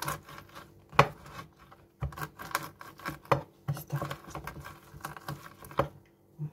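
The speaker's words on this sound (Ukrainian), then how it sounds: "Горіх нам треба спочатку розім'яти качалочкою по дощечки" Irregular knocks and rolling thumps of a rolling pin crushing walnuts on a wooden board, with soft crunching between them, close by; a voice says a brief phrase.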